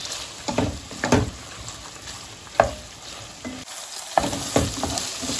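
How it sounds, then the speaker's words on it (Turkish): Onions and meat sauté in a hot pan with a steady frying hiss, punctuated by scraping and stirring strokes every second or so, close up. "Soğanlarıyla kavrulsunlar."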